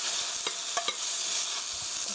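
Eggplant stir-frying in a hot pan gives a continuous close sizzle, with a few sharp scrapes and clacks of a utensil stirring the pieces.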